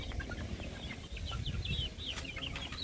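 Young Bulik chickens in a pen cluck and peep close by, a quick scatter of short chirping calls over a low rumbling background, with no talking.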